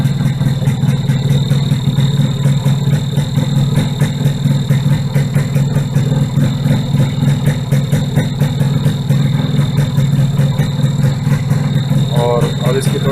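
A Yamaha RX-100 motorcycle, started after six months or more unused, runs at a loud, steady idle close by. Its rapid, even pulsing continues throughout, with a brief voice near the end.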